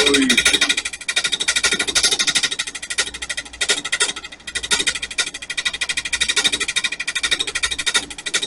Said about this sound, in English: These carbide cutters are really sharp.